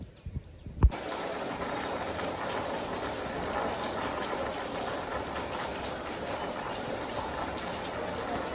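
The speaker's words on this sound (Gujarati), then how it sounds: "વરસાદ આવ્યો પણ હે ને આવો વરસાદ આવ્યો" Heavy rain pours down steadily during a family house-staircase fitting job, a dense, continuous hiss that starts abruptly after a brief quieter moment with a thump and then holds loud and unbroken.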